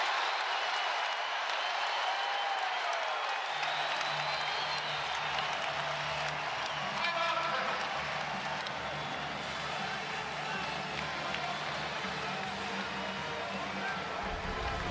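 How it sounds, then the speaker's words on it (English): Fans at a 2023 Drake Bulldogs at Bradley Braves college basketball game roar after a corner shot, a loud sustained crowd eruption with scattered clapping that continues under the noise. "the crowd erupts"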